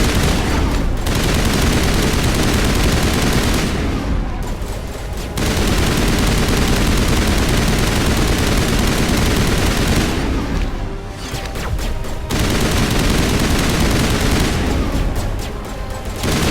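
Sustained assault rifle fire in the Mass Effect video game, loud continuous bursts that drop out briefly a few times before resuming.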